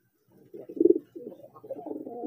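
Soft, low coos from homing and racing pigeons repeat in short murmuring bursts, close by, with a brief pause before a longer run of throaty cooing.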